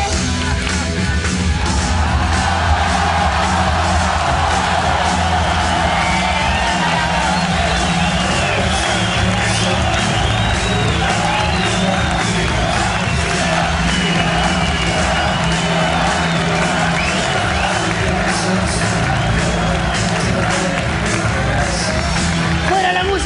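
Audience applause and cheering at Teletón 2010, with a large crowd roaring, whooping and clapping continuously and loudly throughout, shouts rising out of the noise.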